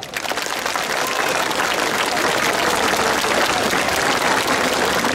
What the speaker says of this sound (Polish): Przy okazji wielkie brawa!